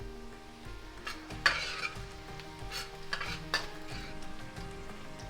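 Garlic and the white part of spring onion sauté in a pan for a Chinese whitebait and dried bean curd stir fry, giving a steady close sizzle broken by a few clinks and scrapes as a utensil stirs.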